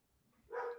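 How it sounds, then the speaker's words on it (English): A single short bark from a pet dog somewhere in the background of a home room, brief and fairly faint. "That's my dog in the background."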